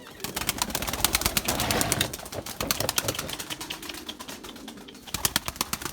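Erzurum white pigeons flapping in flight and settling to land nearby, a busy run of sharp wingbeat claps and rustles with faint coos, over steady outdoor background.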